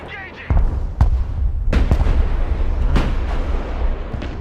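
Gunfire and artillery from the Broken Arrow real-time strategy war game, in its US Peacekeeper campaign: several sharp, booming shots spaced irregularly over a rumbling battle bed.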